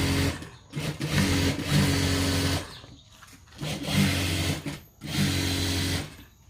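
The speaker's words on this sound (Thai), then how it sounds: "ตัวนี้ก็จะเย็บไปเรื่อยๆนะครับ" A sewing machine stitches gloves in bursts: three or four loud whirring runs separated by short pauses, close up, with no speech.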